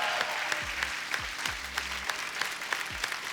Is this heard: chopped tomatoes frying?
no